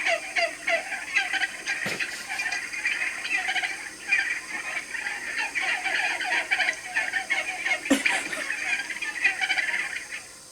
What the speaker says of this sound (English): It's gotta be a flock of turkeys.